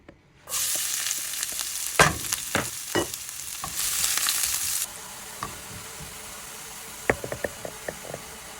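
Garlic hits hot cooking oil and sizzles loudly, a broad bright hiss with sharp spatters and stirring knocks, easing to a quieter frying simmer with occasional pops, close by with no talk, while cooking a Kapampangan-style salted tilapia dish.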